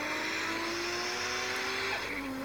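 A racing car engine in the video game 4x4 Off Road drones at high revs, its pitch dipping slightly as it shifts, loud and continuous with no talking.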